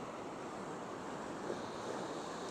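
Waves crash steadily against the pier at Duluth, a broad, continuous roar of surf mixed with wind buffeting the microphone, with no distinct individual breakers.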